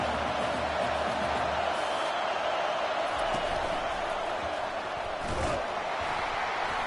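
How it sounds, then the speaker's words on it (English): A crowd roars at a college football stadium, a dense, loud and sustained wall of cheering and shouting with no single voices standing out. "Listen to this crowd just shaking the girders of this place, trying to help their defense."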